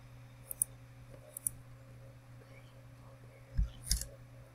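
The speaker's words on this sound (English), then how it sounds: "If you can hear the clicking again" Faint, sparse clicks tick in an otherwise quiet stretch of Piggy Alpha gameplay, a couple of sharp ticks near the start, then a pair of duller knocks toward the end.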